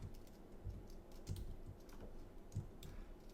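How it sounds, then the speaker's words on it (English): Keyboard typing on a computer while entering an integral into Wolfram Alpha, heard as soft, uneven key taps in a quiet room with a few louder clicks. "I'm actually typing this out to show you"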